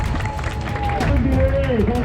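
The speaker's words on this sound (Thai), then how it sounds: "ปล่อยตัวครับปรบมือหน่อยปรบมือตัวเองหน่อย" Runners clap together at the start of the Langka Luang trail race in early morning, a dense patter of hands under crowd chatter and a voice calling out over it.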